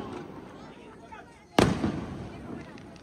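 A Diwali firecracker bursts with one sharp, loud bang midway, followed by a short rumbling tail. Faint crowd murmur and voices sit in the background before and after.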